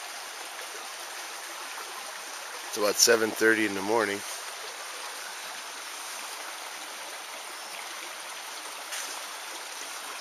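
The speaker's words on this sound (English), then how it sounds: "The creek is running really, really low right now." A creek at Northwind Lodge near Ely, Minnesota runs low on a fall morning, a steady soft trickling wash throughout, with someone speaking briefly over it early on.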